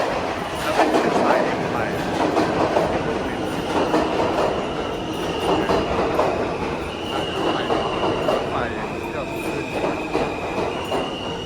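A New York City subway train rumbles and clatters through a station, with metallic wheel squeals rising above the steady roar and faint voices in the background.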